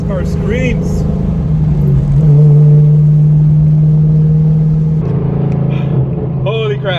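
A fifth-generation Chevrolet Camaro fitted with aftermarket headers roars under hard acceleration, a loud, sustained engine note that climbs and holds for several seconds while a person whoops and talks over it.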